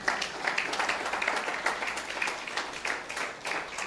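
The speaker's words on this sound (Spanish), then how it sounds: "Den un aplauso al Señor" A church congregation claps together in a steady ragged applause, moderately distant and fairly soft, with faint voices mixed in.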